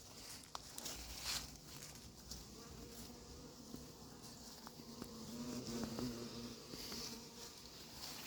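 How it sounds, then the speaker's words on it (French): A European hornet buzzes faintly around nearby at an apiary, its drone drifting closer and farther against a quiet outdoor background. "on a même un frelon européen qui s'invite. Il est là, il tourne autour."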